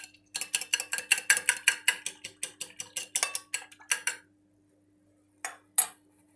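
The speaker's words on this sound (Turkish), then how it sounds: "bir yumurta sarısı, bir çay bardağı sütle iyice çırpalım" Egg yolk whisked with milk in a bowl, about twenty quick, evenly spaced metallic clicks of utensil against bowl for four seconds, then a pause and two last taps.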